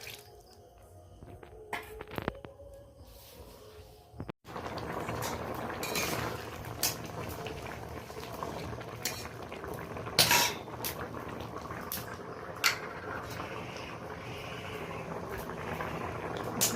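Tamarind water poured into a simmering sweet potato and shrimp sour curry in a kitchen pot, giving a steady bubbling sizzle with a few sharp clinks and knocks of utensils, close and alone without talk.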